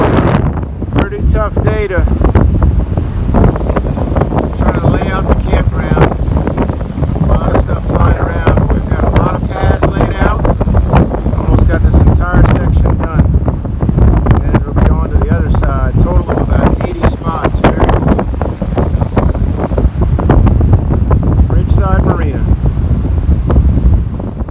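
Strong storm winds, gusting up to seventy miles an hour, roar over breaking surf on the Louisiana coast, a loud continuous buffeting of the microphone for the whole stretch with no break.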